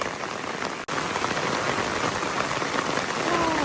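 Heavy rain pours steadily during a storm at a bamboo bridge construction site, a loud, dense, continuous hiss with one brief dropout early on and no talking.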